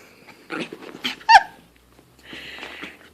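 A Havaton puppy whimpers and whines excitedly during trick training, with short high yelps and a sharp squeal in the middle, close and alone, followed by a softer drawn-out whine.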